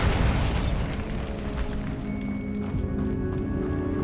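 A Bombarda explosion spell in the video game Hogwarts Legacy gives a booming blast at the start and leaves a dense, rumbling wash. The roar fades slowly but stays loud, with faint tonal game sounds ringing over it.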